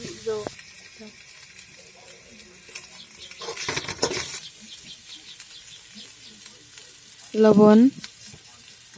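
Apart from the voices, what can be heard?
frying peas and paneer with green chilli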